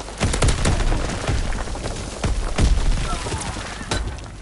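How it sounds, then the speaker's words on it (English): A grenade explosion in Call of Duty WW2, with heavy booming impacts and sharp shattering cracks scattered across a noisy battlefield, several strong thumps standing out. "grenade."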